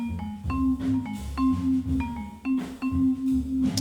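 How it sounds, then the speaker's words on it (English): Vibraphone notes ring out in a studio-recorded jazz ensemble mix, struck in a steady rhythmic pattern with bell-like sustaining tones over drums and other instruments played together in one room. "Marimba phone or vibraphone, here it's vibes."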